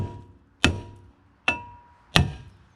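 Three sharp metallic strikes hit a rusted Mazda rear brake rotor, each ringing briefly before fading, spaced about a second apart and heard close up without talk.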